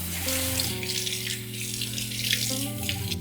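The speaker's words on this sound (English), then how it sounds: "Thoroughly rinse your mung beans" Mung beans rinsed under a running kitchen tap, giving a steady, close splashing rush of water that runs throughout, with a tonal musical bed beneath it.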